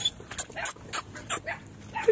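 Dog barking in a rural Philippine province, with two puppies nearby: several short, sharp barks and yips in quick uneven bursts, close and fairly loud, with some voice mixed in.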